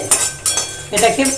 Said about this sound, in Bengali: এই মশলাটাকে আমাকে ড্রাই রোস্ট করতে হবে।